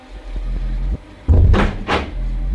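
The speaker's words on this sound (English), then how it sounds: "I turned around, cranking my head in time to see that the cavern door had been pulled shut" A heavy cavern door is pulled shut, giving a low rumbling scrape followed by two loud, close thuds as it closes.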